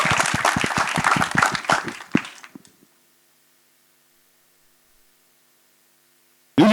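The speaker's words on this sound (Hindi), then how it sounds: "जोरदार तालियां" A crowd at a film trailer launch event breaks into loud, dense applause for about two seconds, then fades to a few scattered claps and near silence before a burst of sound at the end.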